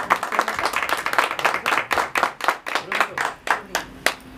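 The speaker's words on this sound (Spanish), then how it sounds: "aplauso para ella" Audience at a birthday mariachi performance claps for the celebrant, a dense run of close, sharp handclaps that thins into slower, scattered individual claps toward the end.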